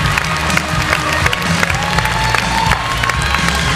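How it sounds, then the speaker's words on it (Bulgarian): A pageant audience applauds the Miss Bulgaria 2013 runner-up, with dense, continuous clapping and crowd cheering that stays loud and steady throughout. "Аплодисменти за Джулия! Аплодисменти!"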